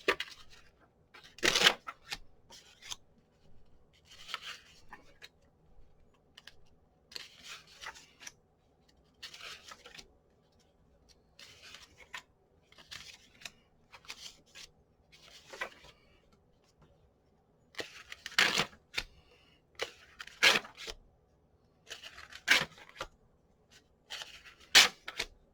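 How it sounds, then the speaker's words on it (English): Paper pages for a junk journal, including origami paper, being sorted into piles by hand, with soft intermittent rustles, slides and a few sharp crisp flicks, quiet and close, no talking. "So I'm just going to sort these into"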